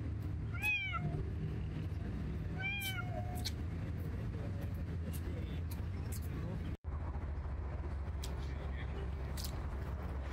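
Stray cat meowing in a park, two clear plaintive meows early on over a steady background rumble of traffic and buses, with no talk.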